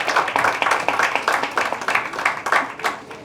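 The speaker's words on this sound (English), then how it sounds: "Can we give a round of applause to all of those three speakers?" An audience at an Ayurveda Day award function claps in a brisk round of applause, distinct hand claps packed closely together at a steady, fairly loud level.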